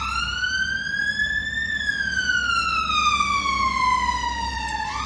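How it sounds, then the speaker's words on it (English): Ambulance siren wailing close by, one long rising then falling electronic sweep over steady traffic rumble, loud and continuous with no talk. "that was an ambulance."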